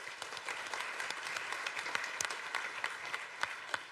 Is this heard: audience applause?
yes